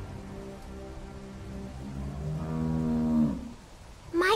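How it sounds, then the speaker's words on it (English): A cow in The Walking Dead video game moos once, a long low, fairly loud call lasting about two seconds, over a light patter of rain, with no talking. "How do you like that cow, Clem?"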